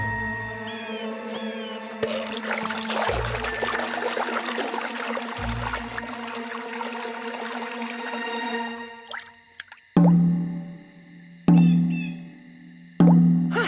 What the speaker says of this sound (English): Witness, you will, the dreaded drip of doom!